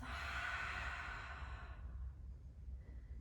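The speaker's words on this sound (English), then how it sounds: "One more deep inhale. And exhale out the mouth." A deep exhale out through the mouth during a yoga session, one long close breathy sigh fading out over a couple of seconds.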